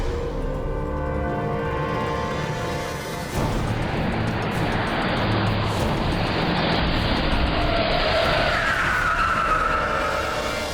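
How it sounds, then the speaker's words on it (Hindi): A car pulls out of a courthouse parking lot with a sustained loud tire skid and engine roar, the squeal rising in pitch toward the end, no voices. "वो कार कोर्ट के पार्किंग लॉट में से निकली"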